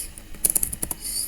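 Someone types C++ code into Code::Blocks on a computer keyboard. A short, close burst of about half a dozen quick key clicks is heard alone, with no talk.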